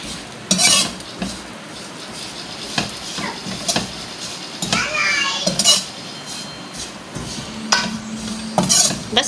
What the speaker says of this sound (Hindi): थोड़ा सा घी और डाल देते हैं इसमें, चमचा चलाते रहे हम।